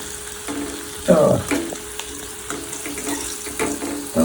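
Home-made remedy mixture sizzles and frys steadily in a pan while being stirred, with scraping strokes coming back through the clip at close range and no talk.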